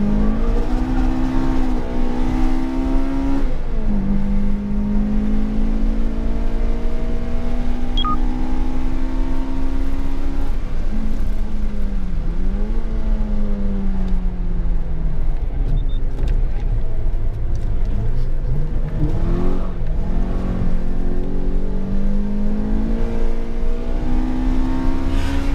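A Toyota Corolla T Sport on wider tires lapping a race track at speed, its engine droning loud and steady from inside the car, rising and falling through gear changes and revs for the whole stretch.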